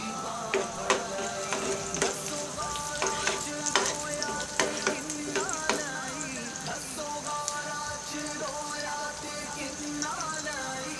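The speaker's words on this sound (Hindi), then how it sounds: "फ्राई करना है थोड़ा सा।" Chicken bread roll filling lightly browning in a pan, a continuous sizzle punctuated by frequent sharp taps and scrapes of a spoon stirring against the pan, close and busy, with no talking.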